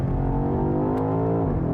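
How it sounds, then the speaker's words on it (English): A 2020 BMW X6 M Competition engine idles with a low, rumbling exhaust burble, a single sharp pop cutting through midway. "you can hear the burble and the pop from the exhaust"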